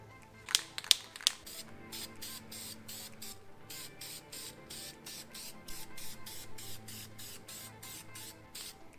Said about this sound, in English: we're gonna use the VHT black paint and paint our surface with it all clean